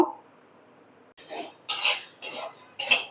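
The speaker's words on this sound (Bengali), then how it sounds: "এখন এই মুগ ডালটাকে আমি ভেজে নেব" Mung dal being dry-roasted in a wok, stirred with a metal utensil: a quiet start, then four sharp scraping, rattling strokes against the pan in an uneven rhythm, close and fairly loud.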